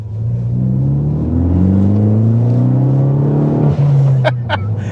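Ford Focus ST hot hatch, front-wheel drive, accelerating hard with a steady engine drone whose pitch climbs and steps through gear changes, loud and close from inside the cabin, with a couple of sharp clicks near the end.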